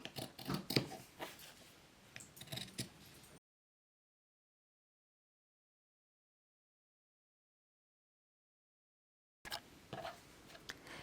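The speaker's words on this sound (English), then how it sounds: "if you have pinking shears are a great way to cut this out" Pinking shears cut through fabric for a sewn face mask in quick, quiet snips. A burst of snipping is followed by a long silent gap, then a few more cuts.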